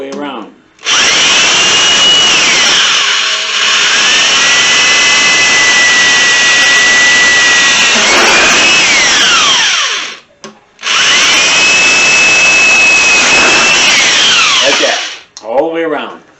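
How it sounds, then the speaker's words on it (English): A loud electric drill whines steadily as it bores through the thin metal of a can, running in two long bursts with a brief pause between them and pitch shifts near each end. "I'm going to drill on the inside of that circle all the way around"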